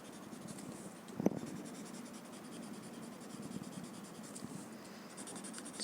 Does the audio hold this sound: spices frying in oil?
no